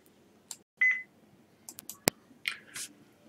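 HMI alarm software sounds short tonal beeps through computer speakers, fairly faint and scattered among small clicks and taps.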